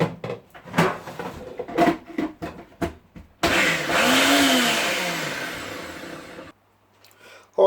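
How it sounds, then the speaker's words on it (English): After some handling clatter, a blender whirs loudly for about three seconds as it purees homemade shrimp food, its motor pitch shifting as the mix churns, then cuts off abruptly. "I'll give it a quick whiz up in the old blender."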